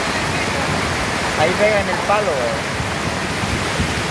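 A small, swollen river near flood level rushes hard and falls over rocks with a loud, steady, close roar of churning water. Someone speaks briefly over the noise.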